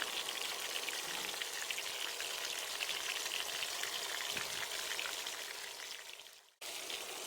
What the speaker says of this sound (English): keep moving the fish so that the fish gets cooked and fried evenly